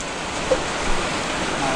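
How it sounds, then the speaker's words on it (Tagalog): Rain falling steadily as a dense, even hiss close by, with no breaks. "Ulan na naman."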